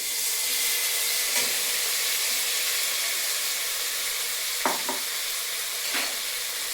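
Tomato pieces and onions frying in a pan for tomato rice, giving a steady, hissing sizzle close by, with a few brief utensil scrapes near the end.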